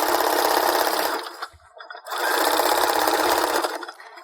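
A sewing machine runs a stretch stitch along stretchy cheer dance shorts, a loud close steady whir that stops briefly for about half a second near the middle, then restarts and keeps going.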